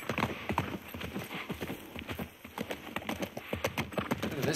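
Horse hooves clip-clop in quick, steady beats in the video game The Last of Us Part 1, close and moderately loud, with faint game ambience behind.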